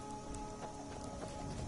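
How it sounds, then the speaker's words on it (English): Steady rain falls in the video game Skyrim, a soft continuous patter with no voices, heard alone at a low level. "it's raining"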